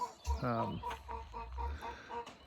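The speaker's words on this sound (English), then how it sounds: "All the chickens are whining because they want to come outside" Chickens clucking and fussing nearby in an early-morning coop, wanting to be let outside, a run of harmonic squawks over low rumbling background, with no talking.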